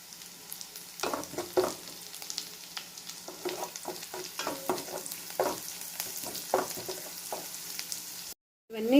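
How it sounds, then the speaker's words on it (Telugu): Onions and green chillies fry in a pan for street-style egg fried rice. A continuous close sizzle carries repeated spatula scrapes and stirring taps throughout, and the sound ends abruptly. "ఆనియన్స్ కాస్త ఫ్రై అయిన తర్వాత సన్నగా తరిగిన పచ్చిమిరపకాయలు వేసుకోవాలండి."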